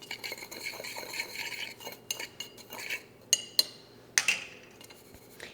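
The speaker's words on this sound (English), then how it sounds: "give this a good mix so that all of the seasonings are nice and combined." Oregano and black pepper seasonings are stirred together in a bowl, producing quiet scraping and rustling followed by a few bright metallic clinks of a utensil against the bowl, close and with no talking.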